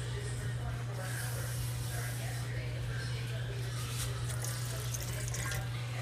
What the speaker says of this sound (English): To add a little bit more water to this rice